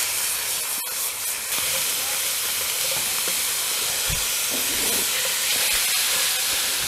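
Food being stir-fried in a pan over an outdoor campfire gives a steady hiss and sizzle with occasional thumps and scraping, close by and fairly even in level.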